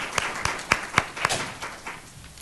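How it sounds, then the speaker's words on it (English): Scattered claps from a small audience applauding a panelist at a college student leadership luncheon, a handful of sharp distinct hand claps in an uneven rhythm that thin out and fade within a couple of seconds. "Can we give one more round of applause for Ms. Maya, please?"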